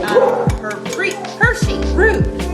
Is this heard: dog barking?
yes